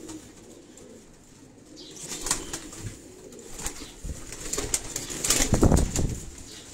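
Flying pigeons kept on a rooftop in Defence, Karachi, beat their wings in a series of quick, flurried flaps that grow louder and closer toward the end, over a soft outdoor background.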